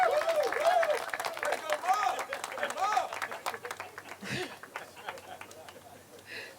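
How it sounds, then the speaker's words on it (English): A crowd at an outdoor Bike to Work Day gathering claps, scattered applause under someone speaking, fading out over a few seconds. "Let's give Mark a big round of applause."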